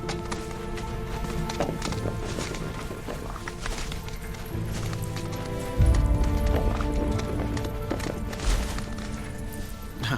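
Galloping mount footsteps from the Final Fantasy VII Rebirth video game, a steady rhythmic clip-clop through fog and swamplands, layered with game music and effects, growing louder partway through.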